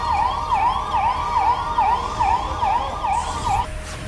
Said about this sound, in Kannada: ಈ ವೇಳೆ ಟ್ರಾಫಿಕ್ನಲ್ಲಿ ಆಂಬ್ಯುಲೆನ್ಸ್ ಸಿಲುಕಿ ಪರದಾಡುವಂತಾಗಿತ್ತು